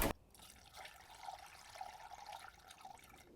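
Coolant trickles and gurgles as it is poured into the engine of a Dacia Duster Mk1 1.2, a faint, close, steady liquid flow after a brief sharp click at the start.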